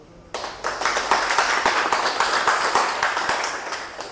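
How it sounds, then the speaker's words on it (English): Club members at a Toastmasters meeting give a round of applause for the Toastmaster, a dense burst of many hands clapping that starts abruptly and holds steady and fairly loud for about four seconds, with no talk. "Big round of applause for Toastmaster Radha first."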